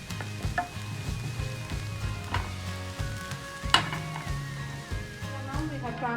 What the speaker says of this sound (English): You will get nice aroma when you fry this garlic in butter and oil.